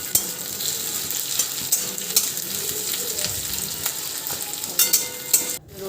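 Prawns frying in mustard oil in a pan for a coconut prawn dish give a steady, close crackling sizzle that runs throughout, with light stirring clinks and a brief dip near the end.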